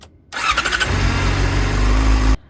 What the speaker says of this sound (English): the manual states to run the bike for like a minute